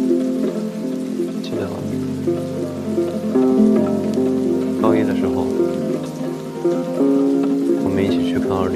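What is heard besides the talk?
rain falling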